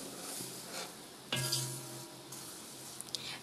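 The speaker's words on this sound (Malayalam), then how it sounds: "എന്നിട്ട് നന്നായിട്ടൊന്ന് മിക്സ് ചെയ്ത് കൊടുക്കാം." Roasted chana dal and roasted sesame being stirred in a pan: a soft, steady sizzle with scraping strokes, one louder clatter of the utensil against the pan, then a few light taps, and no talking.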